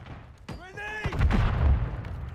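A thrown frag grenade bursts in Call of Duty Warzone, a heavy, close boom that rolls on into a rumbling tail after a voice calls out.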